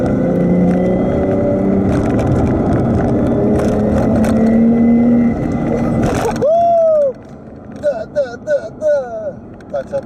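Toyota 1JZ-GTE engine fitted with an automatic-transmission simulator, revving and accelerating up through its gears with a rising whine, then cutting out abruptly, followed by quieter chirpy sounds.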